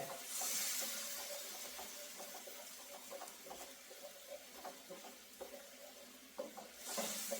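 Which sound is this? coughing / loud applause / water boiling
water boiling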